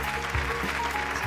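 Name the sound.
applause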